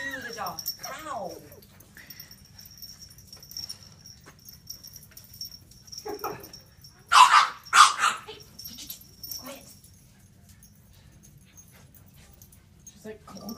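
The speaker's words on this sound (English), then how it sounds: "Ooh, another dog." Puppies yip and bark in a couple of sharp, close bursts midway through, with whimpers and scattered yips around them while people talk and laugh nearby.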